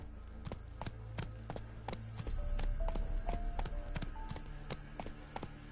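Roach the horse's hooves clip-clop at a steady walking pace in a video game, the hoofbeats close and distinct over a low ambient rumble.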